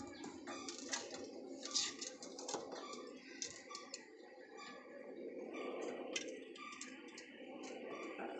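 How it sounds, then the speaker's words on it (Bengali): Pigeons of a breed offered for sale, cooing with soft, steady murmurs that are joined by a few sharp ticking knocks, close by and quiet, with no one talking. "খুব সুন্দর পায়রা।"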